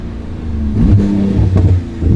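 A Porsche 911 GT2 RS accelerates hard, its engine note rising loud and close from inside the car, swelling in a continuous surge.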